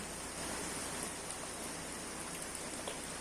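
Steady rain falls over flower beds in a home garden, a dense, even hiss of drops on leaves and soil with no gaps or voices, soft and continuous throughout.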